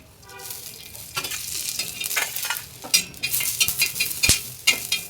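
Cloves, pepper and cinnamon are dry-roasting in a pan for a mutton recipe, stirred with a spatula, giving a crackly sizzle with repeated scraping strokes and sharp metallic taps against the pan, close and steady, with no voices.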